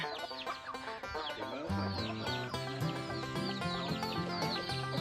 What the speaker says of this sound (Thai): บ้านก็ให้ไก่อยู่หมดเลยค่ะ เยอะมากค่ะ ไก่ชน